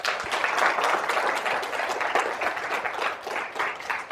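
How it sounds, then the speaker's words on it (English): An audience gives a round of applause at a careers talk, dense steady clapping sustained throughout, fairly even in loudness and slightly fading near the end. "And can we give a big round of applause?"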